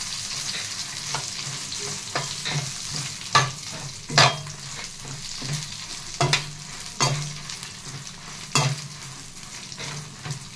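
Dried red chillies roast in a hot pan for chilli powder, stirred now and then with sharp scraping clatters over a steady soft sizzle and crackle, close and fairly quiet, no voices.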